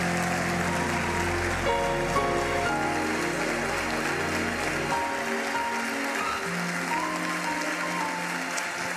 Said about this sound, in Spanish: Denle ese aplauso a Jesús, por favor. Fuerte.